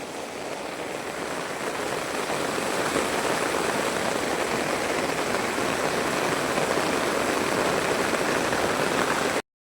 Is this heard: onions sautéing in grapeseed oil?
no